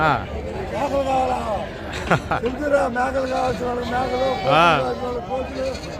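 Goats bleat repeatedly amid a crowd's background chatter at a goat market in Gudur, with several overlapping wavering calls and one loud, close bleat near the end.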